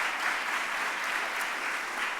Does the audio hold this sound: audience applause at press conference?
yes